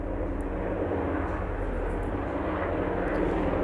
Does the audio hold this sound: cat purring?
no